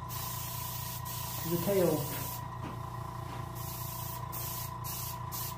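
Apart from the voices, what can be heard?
spray painting a chum salmon taxidermy mount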